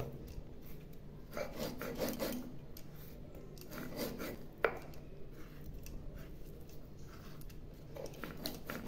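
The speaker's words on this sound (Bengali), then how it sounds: "অল্প অল্প করে জল নিয়ে বাটছি।" Poppy seeds are ground into a paste with small additions of water, giving soft rasping, rubbing strokes in irregular bursts, close and quiet, with one sharp knock partway through.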